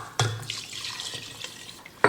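Water from a tap pours into a quart jar of chicken broth in a home kitchen, a brief splashing run with a second burst at the end.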